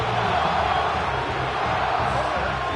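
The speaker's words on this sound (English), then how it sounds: "This crowd turning up the decibel level." A football video game's stadium crowd gives a steady, dense roar that stays loud and unbroken throughout, a broadband wash of many voices with no single caller standing out.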